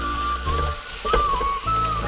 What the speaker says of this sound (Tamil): மீதி இருக்க வெங்காயம் போட்டுக்கிறோம்.